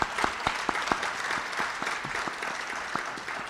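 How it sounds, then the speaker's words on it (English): An audience at a mayoral candidates' forum gives a steady round of applause, with many hands clapping at once and a few sharper claps standing out. The sound is moderately distant and lasts throughout. "Can we have a round of applause for both candidates?"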